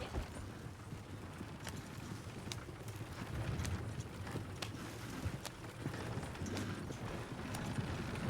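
Horse hooves clip-clop in a steady walking rhythm, fairly close, with light wind noise and faint mechanical sounds behind them.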